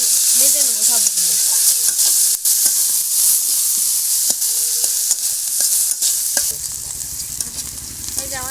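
Prawns frying in a pan with onion, garlic and chopped green chili: a steady close sizzle with repeated scraping and stirring clatter of a spatula, plus a brief faint voice early on.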